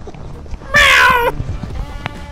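A cat meows once, loud and drawn out with a slightly falling pitch, in a short TikTok clip, followed by low background noise and faint indistinct sounds.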